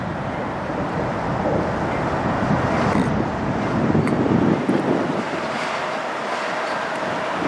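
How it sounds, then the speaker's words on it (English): Lake State Railway LSR 1501 locomotive moving along a Michigan waterfront near the Blue Water Bridges, a steady rumbling roar swelling slightly as it passes, heard at a distance through wind noise. "we have the Lake State Railway coming up the waterfront here"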